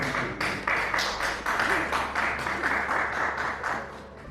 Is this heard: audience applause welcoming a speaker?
yes